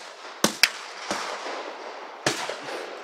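An AR-15 rifle fired outdoors gives a few sharp, cracking shots: two close together, then a weaker one, and another after a pause, at moderate distance.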